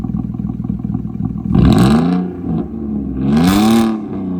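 A 3.0-litre Audi A4 B6 with a straight-pipe exhaust, idling with a lumpy burble before two loud, rising-and-falling throttle blips, close and raw-sounding, with no speech.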